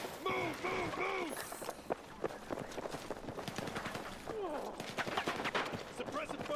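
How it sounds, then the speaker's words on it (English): Gunfire in a Battlefield video game, a dense stream of rapid shots and bursts mixed with radio-style voices and movement, loud and continuous for several seconds. "Suppressive fire."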